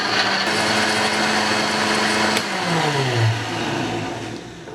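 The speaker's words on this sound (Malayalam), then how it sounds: "ഇനി ഇത് നന്നായിട്ടൊന്ന് അടിച്ചെടുക്കാം" A blender whirs steadily through a mango coconut milk smoothie with sugar, loud and continuous, with its pitch shifting and dropping toward the end as the motor slows.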